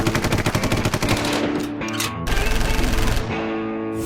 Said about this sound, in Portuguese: uma salva de tiros